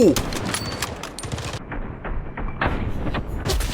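Bursts of rapid automatic AK rifle fire in a shooting video game, loud and close, with dense rattling volleys broken by a short lull before firing resumes.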